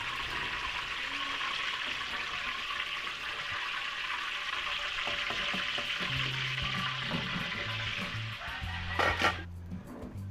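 String beans (sitaw) deep-frying in hot oil for kare-kare, giving a steady broadband sizzle that runs the whole time, with a few low clunks and a brief louder clatter near the end.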